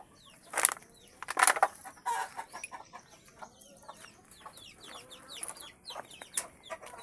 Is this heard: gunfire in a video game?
no